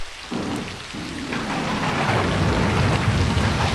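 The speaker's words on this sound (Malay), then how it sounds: "tiba-tiba terdengar bunyi" Heavy rain pours steadily while thunder rumbles low and rolling beneath it, building slightly toward the end.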